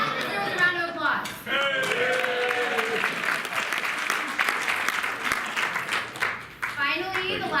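A brief burst of audience applause and cheering at a roast-style event, rising between spoken passages and fading back as a voice resumes; talk is heard before and after the clapping.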